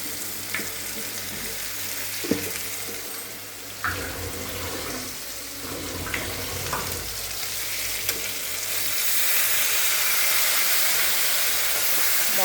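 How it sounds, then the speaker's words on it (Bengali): Ginger, cumin and chili pastes with turmeric fry in oil for a fish curry, a steady close sizzle broken by occasional spoon taps and scrapes, growing louder and hissier toward the end. "মশলাটা ভালো করে কষিয়ে নেব।"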